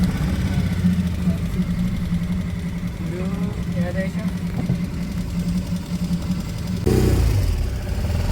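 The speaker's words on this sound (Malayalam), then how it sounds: "ബൈക്കിൻ്റെ മോട്ടറല്ലേ" A small boat engine built from a motorcycle motor idles with a steady low hum throughout, close by on backwater, while someone talks over it briefly; the engine note rises near the end.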